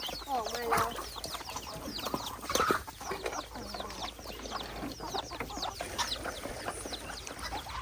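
Wild junglefowl clucking and calling near a drinking spot, a busy mix of clucks and bird chirps from several birds, fairly close and continuing throughout, with someone speaking among them.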